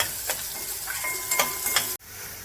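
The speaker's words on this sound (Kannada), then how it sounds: "ಇವಾಗ ಇದನ್ನು ಒಂದು ಸ್ವಲ್ಪ ಫ್ರೈ ಮಾಡ್ಕೊಳ್ತೀನಿ" Ginger, garlic and onion fry in hot oil for a gobi dish, giving a soft, steady sizzle with faint crackles that cuts off abruptly near the end.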